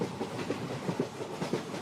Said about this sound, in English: the train begins to speed up again